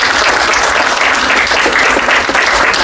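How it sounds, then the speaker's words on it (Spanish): An academic audience applauds steadily and loudly throughout at a university seminar honoring a professor, dense clapping with no pauses. "Vamos a darle un fuerte aplauso."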